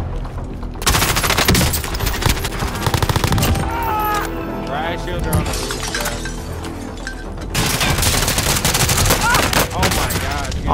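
Loud, dense gunfire in the video game Call of Duty: Modern Warfare, with rapid automatic bursts and crashing impacts, under occasional shouted voices of players.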